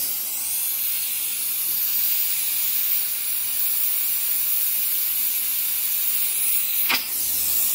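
Molten silver poured into a sand mould for a bangle with cast-in-place faceted sapphires, heard as a steady loud hiss and rush like steam throughout, with a brief sharp crackle near the end.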